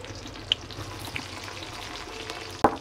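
Garlic, onion and chili frying in hot oil, a steady close sizzle for cooking lentil dal with greens, broken by a couple of small pops or stirring clinks and a sharper spatter near the end.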